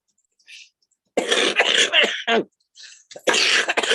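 A close, harsh smoker's cough: a fit of several rough coughs and throat clearing in quick bursts, with short pauses between.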